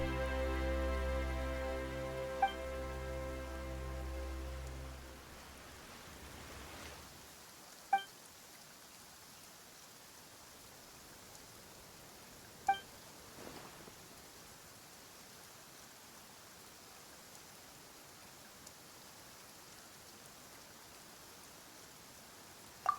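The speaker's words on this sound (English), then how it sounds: "Why is it raining all of a sudden?" Rain in the video game Genshin Impact falls as a soft, steady hiss, faint and even throughout, after a fading musical chord at the start, with a few isolated clicks along the way.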